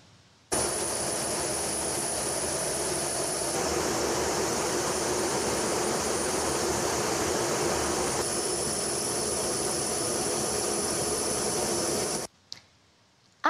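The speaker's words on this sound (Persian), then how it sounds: "بی‌1 لنسر به عنوان قوی ترین بمب افکن جهان نام برده میشه" Steady, loud jet roar from a B-1 Lancer bomber, a broadband rush with a thin high whine running unbroken for about twelve seconds before cutting off abruptly.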